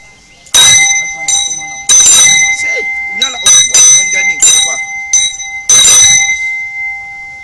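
A hand bell rings in loud, sharp clangs with sustained metallic tones, struck in irregular bursts with short pauses, close by, while a voice speaks in between.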